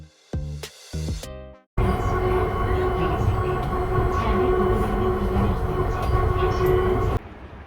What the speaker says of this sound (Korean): 회령역에서 이곳 발곡역까지 경전철을 이용하여 한정거장 이동하였습니다